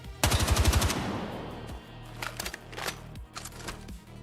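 Automatic rifle fire in Battlefield 6 without recoil control: a fast burst of close, crackling shots lasting under a second, then scattered fainter in-game impacts and clicks.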